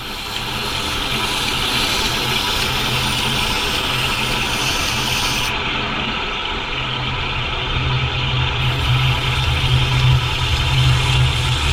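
A leather belt runs steadily on a knife sharpening machine at constant RPM, closing burrs on a carbon steel blade; a continuous loud motorized whir with a low hum persists throughout, no talking.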